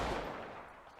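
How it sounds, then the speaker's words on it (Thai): A revolver gunshot sound effect for a pistol being built in a game, a single loud broadband blast at the start that decays over about a second with no talk. "โอเคก็เป็นเสียงเหมือนปืนลูกโม่เลยนะทุกคน"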